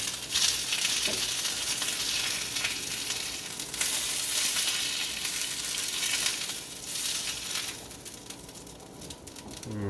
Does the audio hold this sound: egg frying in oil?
yes